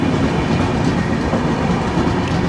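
Onboard the Delhi to Secunderabad Rajdhani Express as it slowly arrives at Majri Junction, a loud, steady rumble of carriage and wheel noise with a faint rhythmic clatter, heard close with no talking.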